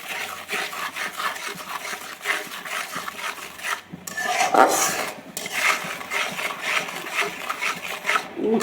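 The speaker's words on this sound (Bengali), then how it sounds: "দেখেন মশলা কষানো হয়ে গেছে।" A spatula rubs and scrapes continuously across a pan as spices, chili and salt are stir-fried for a Bengali katla fish and taro dish, a rasping, steady, close sound with brief louder scrapes midway.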